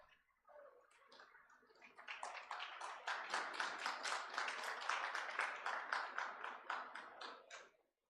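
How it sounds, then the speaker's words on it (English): A conference hall audience breaks into applause, starting with a few scattered claps that swell into steady, dense clapping for several seconds before stopping abruptly, heard from a distance and fairly faint. "I would like to request you to give a round of applause."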